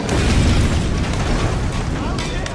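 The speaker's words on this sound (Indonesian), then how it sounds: "tank milik Inggris sukses meledakkan sebuah half-track Jerman" A German half-track blows up after a hit from a British tank in a war film, a loud, close blast with a heavy rumbling roar that slowly fades over a couple of seconds.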